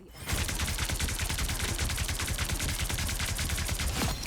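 Emma Frost's left-click attack firing in Marvel Rivals, a rapid, continuous stream of sharp, loud shots that runs steadily for several seconds.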